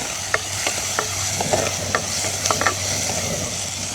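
Shallots and green chillies frying in hot oil in a village kitchen pan, a steady close sizzle with scattered scraping taps of a spoon stirring against the metal.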